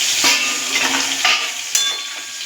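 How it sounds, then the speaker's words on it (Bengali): Mixed vegetables for pachan tarkari sizzling in a pan over raised gas heat while being stirred, a bright continuous frying hiss punctuated by several scraping strokes of a spoon against the pan. "গ্যাসটাকে বাড়িয়ে দেবো, বাড়িয়ে তরকারিগুলো নাড়াচাড়া দেবো"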